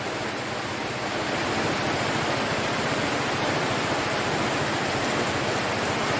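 Heavy rain pours down outdoors beside a cooking fire lit for grilling fish, a dense, steady roar that stays loud and close throughout, with no voices over it.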